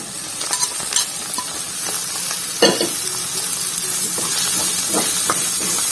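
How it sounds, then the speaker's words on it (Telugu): Raw banana pieces dropped into a hot pan and frying, a close, loud steady sizzle and hiss with a few scraping knocks of a spoon early on, no voices. "ఇప్పుడు నేను కట్ చేసి పెట్టుకున్న అరటికాయ ముక్కల్ని వేసేస్తున్నాను."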